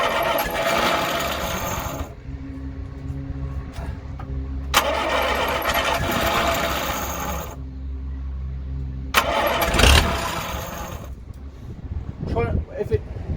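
An engine cranks and tries to start without choke in repeated bursts, each a few seconds long with pauses between, loud and close, with people talking in the gaps.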